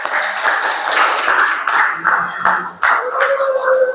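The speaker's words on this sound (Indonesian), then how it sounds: "Beri tepuk tangan." A class of students claps together in a classroom, a dense, continuous burst of applause lasting several seconds at close range.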